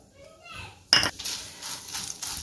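Half a cup of vermicelli tipped into hot ghee in a pan lands with a sudden metallic clatter, followed by softer scraping and stirring as it roasts, with faint voices in the background.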